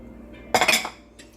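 A spoon stirs a flaxseed fitfit mixture of water, salt, ground flaxseed, onion and chili in a bowl, giving one short burst of close scraping and clinking followed by a faint tap.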